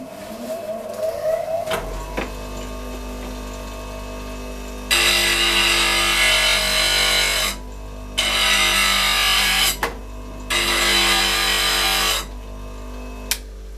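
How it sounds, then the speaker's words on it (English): A woodturning gouge gets its edge touched up on a grinder or sharpening machine: a steady motor hum runs throughout, while three loud, broad grinding bursts of several seconds each come and go as the steel meets the wheel. "I think the gouge needs a bit of a better edge on it"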